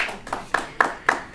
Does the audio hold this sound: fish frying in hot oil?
no